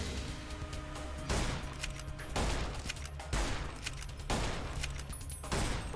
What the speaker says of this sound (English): we are going to start shooting and hope to God that Boone is going to shoot back.